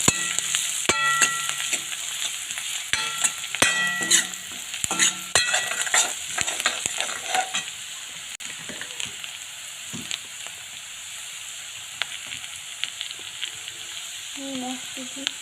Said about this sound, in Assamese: পিঁয়াজ জলকীয়াবিলাক ভাজি লৈ ৰাখোঁ